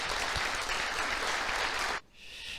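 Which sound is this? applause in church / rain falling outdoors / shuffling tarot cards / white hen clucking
applause in church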